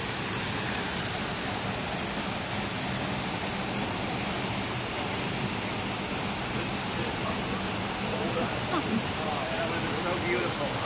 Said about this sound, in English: Look at the little bridge that they have for him over the waterfall.